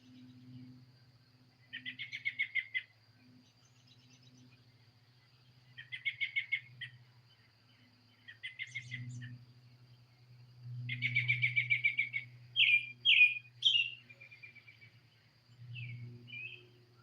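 Bird calls from a back porch in the evening, short repeated chirping phrases spaced a few seconds apart and growing busier toward the end, clear but moderately distant over a low steady hum.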